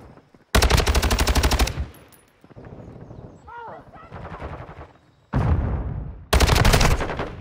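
Automatic rifle fire from an AUG STB 556 in Call of Duty Modern Warfare 2 (2022), with loud full-auto bursts opening and closing the stretch, game sounds and a player talking in between.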